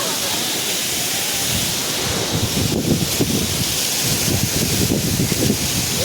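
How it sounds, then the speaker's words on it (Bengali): Water from a waterfall splashes and roars in a continuous dense wash, loud and close, along a mountain route in Sikkim between Zuluk and Aritar. "জল ছিটছে এখানে।"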